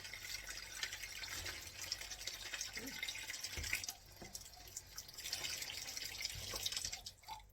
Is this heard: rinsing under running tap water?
yes